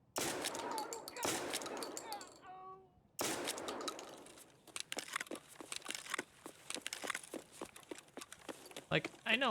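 A shotgun fires pellets in the video game Escape from Tarkov, with sharp blasts and rapid cracking shots amid rustling and footsteps, partly under talk.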